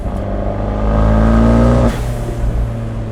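An Abarth 124 Spider's engine and exhaust heard from inside the cabin with the top up and valves closed while cruising at night, a steady low droning hum that swells slightly as it accelerates, then eases off.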